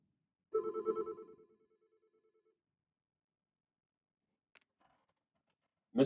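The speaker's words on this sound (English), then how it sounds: "Let's answer the phone instead." A telephone rings once in a classroom: a short, buzzy repeated bell burst that fades out, followed by quiet, then a faint click and a brief sharp knock.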